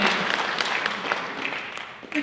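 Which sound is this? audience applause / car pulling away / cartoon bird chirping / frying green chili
audience applause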